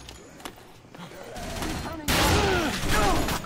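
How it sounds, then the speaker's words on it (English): Enemies in Dead Rising on Xbox 360 fire machine guns, rapid bursts that swell from moderate to loud and sustained volleys, with someone talking over the gunfire. "Yeah, these guys have good guns as well. Machine guns."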